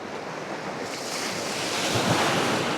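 Waves wash over a stony shore in a continuous rushing wash with loose stones rattling, loud and close, mixed with heavy wind buffeting the microphone.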